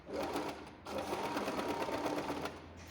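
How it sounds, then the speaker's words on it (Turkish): A home sewing machine stitches a button on with a zigzag stitch, its fast steady needle chatter running close and loud for nearly three seconds with one brief pause early on. "Pedalıma basıyorum, makineyi çalıştırıyorum."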